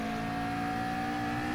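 A Group 3 race car in Gran Turismo Sport drags uphill at Autodromo de Interlagos, its engine a steady, sustained high-pitched drone under acceleration, loud and unbroken throughout.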